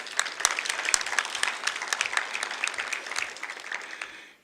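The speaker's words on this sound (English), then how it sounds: "I want you to make sure that you also applaud your state treasurer" A room full of people applauds a state treasurer during an award presentation, dense continuous clapping with a few louder close claps, tapering off at the end.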